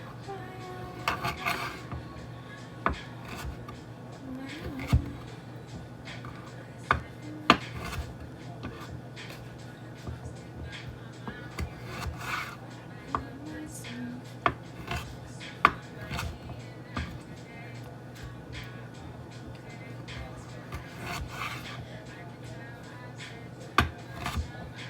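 Knife chopping ingredients for homemade guacamole on a cutting board, an irregular series of close, sharp taps and thuds with brief pauses between bursts, with faint kitchen clatter and no talking.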